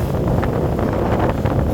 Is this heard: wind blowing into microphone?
yes